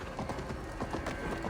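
Horse hooves clip-clop at a steady walking rhythm in Assassin's Creed Valhalla, the mount moving slowly through a town, each fall of the hooves close and distinct over a low background bed.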